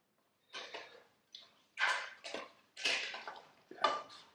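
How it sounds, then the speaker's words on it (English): A spoon scrapes and clinks in a pot as sugar is stirred into a sweet and sour chutney mixture, several separate scraping strokes, close and quiet, with no voice. "And you give that a good stir."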